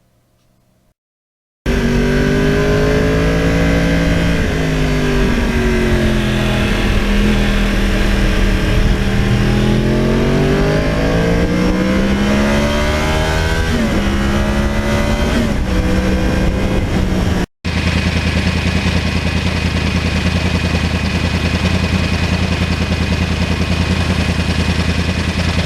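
A 2009 Yamaha R1 with its crossplane engine revs loud and close, pitch sweeping up and down through repeated throttle blips, with a brief cut near the end before the steady engine note resumes.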